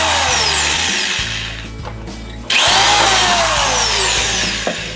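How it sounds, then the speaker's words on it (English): A power drill whines loudly as it bores through plywood, pausing briefly midway before spinning up again and continuing with rising and falling pitch. "I'll drill through this."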